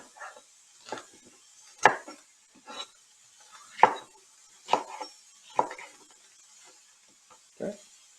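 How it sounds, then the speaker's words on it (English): Knife slicing peppers on a cutting board, eight or so crisp separate cuts and taps at an irregular pace, close and fairly quiet in an otherwise silent kitchen. "we'll just cut up these peppers. Just slice them down the side"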